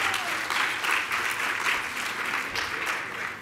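Audience applause at a charter seminar for a tourism authority representative, a thick, continuous clapping from a sizable crowd that holds steady and tapers slightly at the end.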